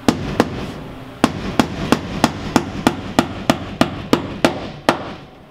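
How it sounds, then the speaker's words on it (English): Hammer tapping tacks into a side window, about fifteen sharp, evenly spaced strikes with short pauses, close and clear with no talk. "So now what I can do is go ahead and tack this in permanently."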